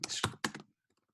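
Typing on a computer keyboard into a Google search, a quick burst of close key clatter at the start, then a few faint scattered taps as it trails off.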